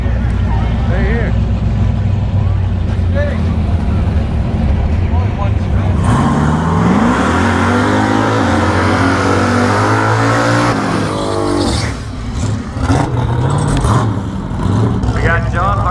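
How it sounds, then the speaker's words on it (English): Turbocharged LS-powered silver Nova and a Regal at a no-prep drag race, engines roaring loud and steady, then rising in revving, climbing pitch before cutting back, with a voice talking over the noise. "In the right lane, we got Rudy in his Regal."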